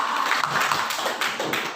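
Clapping from a small group of teachers applauding a colleague, Bu Dumora, at a school meeting, a brief, fairly close burst of hands that fades out.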